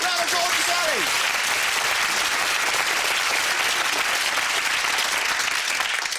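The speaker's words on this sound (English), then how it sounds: "Round of applause for" Studio audience applause for a contestant on a UK game show, loud and unbroken throughout, with a brief voice at the start before the clapping takes over.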